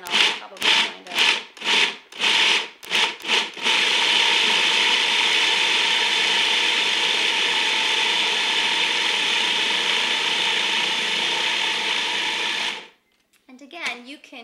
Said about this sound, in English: we're going to put it in a food processor. So get it started. I'm going to pulse it to mix everything up